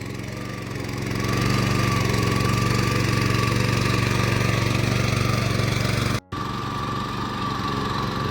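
A diesel tractor engine chugs steadily at close range in a rice-planting field, rising to a loud, rhythmic idle and running on continuously with one brief dropout.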